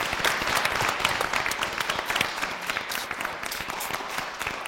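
A studio audience at an Armenian comedy evening show claps to welcome sitcom actor Vache Yeritsyan, sustained dense applause with scattered sharper claps.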